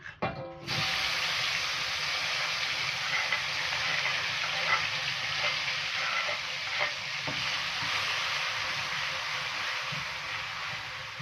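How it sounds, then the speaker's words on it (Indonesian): Ground sambal paste for tofu and tempeh stir-frying in hot oil, a steady loud sizzle with scraping stirs running throughout after a brief quiet start, no voices. "Nah, ini kita gongsong sampai benar-benar wangi ya."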